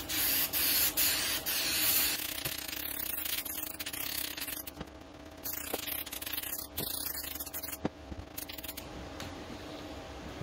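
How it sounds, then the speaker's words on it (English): Black Flex Seal sprayed from a can onto a goth Beetlejuice holiday wreath, a close continuous hiss broken by short pauses and a few small clicks. "I'm going to paint this with black flex seal."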